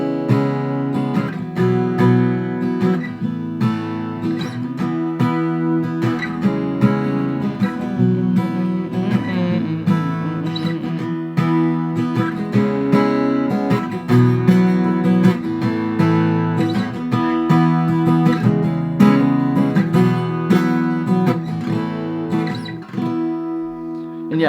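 Acoustic guitar strumming the chorus chord progression of "Better Days" by Zach Bryan in a steady down-down-up rhythm, chords changing regularly, played alone without voices.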